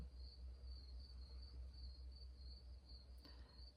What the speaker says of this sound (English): I hope you can hear in the background the sound of the crickets.